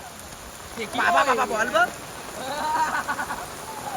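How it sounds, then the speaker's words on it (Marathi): Heavy rain hisses steadily over an outdoor cricket game, a constant close patter beneath voices talking and calling out during play. "फुल पाऊस आहे ना फुलला फुल."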